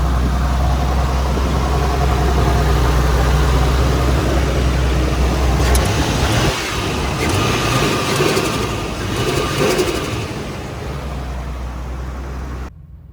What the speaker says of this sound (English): Yeah, everything is idling fine.